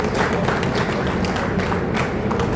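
Audience applause at a committee gathering honouring police officers and committee members: a dense, steady wash of many hands clapping, sustained evenly throughout with no voice rising above it.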